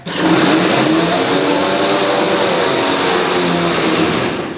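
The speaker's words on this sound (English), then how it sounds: "Can you run the lawnmower so they understand?" A lawnmower engine runs at a strong, steady pitch, loud and close, holding an even throttle for several seconds before easing off at the end, with no talk over it.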